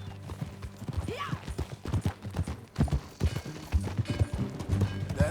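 Horse hooves clip-clopping at a riding pace in the Red Dead Redemption 2 video game, a quick rhythmic patter of hoofbeats up close, mixed with creaks of tack and faint background game sounds.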